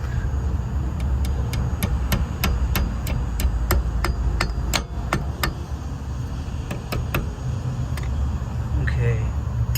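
Sharp hammer strikes knock on wheel bearing parts of a Scamp trailer, a steady run of about twenty close metallic blows at a quick, even rhythm, tapering off near the end over a low background rumble.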